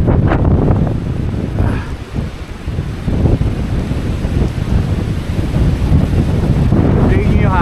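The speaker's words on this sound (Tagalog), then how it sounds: "Tingnan nyo yung hangin. Galit na galit, diba?" Strong, cold gusty wind at a campsite in Bokod, Benguet roars and buffets the microphone continuously, with a faint rush of surf beneath it.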